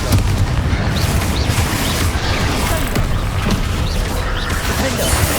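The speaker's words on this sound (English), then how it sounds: "Confringo!" Confringo fire spell cast during Hogwarts Legacy combat on PS5, a loud, dense barrage of booming, crackling blasts rolling continuously over a rumbling battle din.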